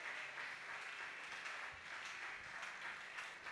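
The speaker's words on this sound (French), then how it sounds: "Acclamez très fort pour la parole de Dieu." A church congregation applauds in acclamation for the word of God during a service, producing a dense, continuous wash of clapping at fairly low level with no pauses.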